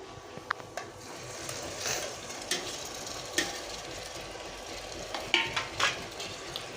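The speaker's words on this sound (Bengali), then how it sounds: "এখন আমি এই ভেজে রাখা এই মাংসগুলো দিয়ে দিচ্ছি" Fried chicken pieces tipped into a bubbling chicken curry with potatoes and stirred in the pan, giving a steady sizzle and close, occasional scraping knocks of the spoon against the metal.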